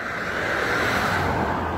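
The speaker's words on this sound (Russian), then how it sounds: "Это мусоровоз. Сломался по дороге." Idling garbage truck broken down by the road near a busy roadside parking lot, a steady loud broadband engine rumble with no distinct events, no talk.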